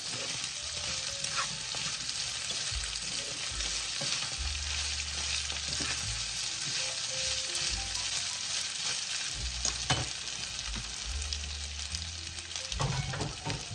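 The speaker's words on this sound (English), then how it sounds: "So I'm putting in my potatoes because they take longer to cook" Potatoes fry in a skillet with a continuous close sizzle, punctuated by occasional scrapes and clinks of stirring and low background hum, with no voices.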